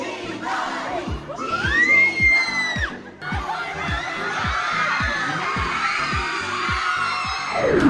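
A crowd at a public event cheers and shouts loudly, with excited voices rising and falling alongside rhythmic thumping beats throughout.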